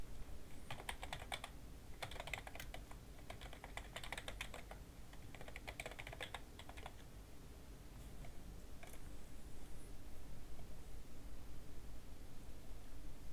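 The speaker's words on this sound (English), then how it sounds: "you're going to want to type in your login and your password" Someone types a login and password on a computer keyboard, quick soft key taps in clustered bursts over a faint steady hiss, then a quieter stretch with only background noise.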